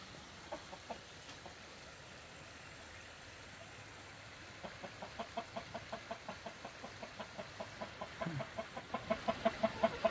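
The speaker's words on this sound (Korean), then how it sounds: "오골개, 뭐 까만 닭이다." Black silkie chickens cluck outdoors at a rural spot near a stream, soft scattered clucks at first, then a quickening run of repeated clucks growing louder toward the end.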